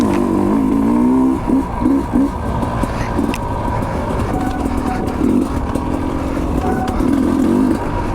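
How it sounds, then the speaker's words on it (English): Sherco 250 SE factory dirt bike with its two-stroke engine idling and given a series of quick throttle blips, close and loud, the revs rising and falling in short bursts over steady running. "Just give the bike some blips."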